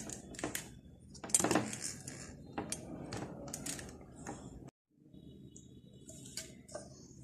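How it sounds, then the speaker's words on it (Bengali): Clinks and scrapes of a bowl being lifted and handled as a baked Christmas fruit cake is turned out, several sharp metallic taps and knocks close by, then a brief silence. "এখন আমি এটা বাটিটা খুলে নেব।"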